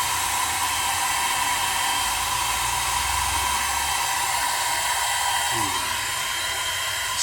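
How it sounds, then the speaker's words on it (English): A heat gun blasts hot air onto car parts being warmed before painting, giving a loud, continuous, even roar that holds for the whole stretch. "this heat gun really blasts out some temperature"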